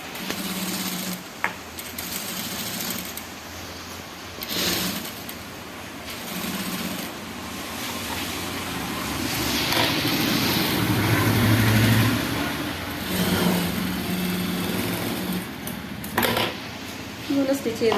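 A sewing machine stitches the back and front neck portion of a cross-cut blouse in bursts of steady whirring, starting and stopping several times, with a longer run in the middle and someone speaking over it.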